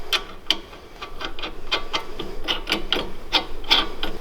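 A ratchet tightens the sway bar nut on a 2011-2016 Ford Explorer during a leveling kit install, giving a quick, uneven run of close, crisp metallic clicks with no voices.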